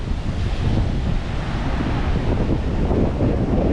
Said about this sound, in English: Oh wow, the water's really crashing down here.